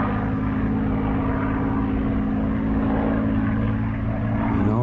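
A propeller airplane drones steadily overhead, its engine holding a constant loud hum with a rising whine near the end, no talk over it.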